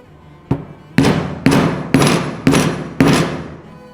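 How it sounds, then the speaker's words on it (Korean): A hammer strikes a leather punch to cut stitching holes in leather, six sharp, evenly spaced knocks about half a second apart, each ringing briefly, close and loud with no talk. "구멍을 뚫겠습니다."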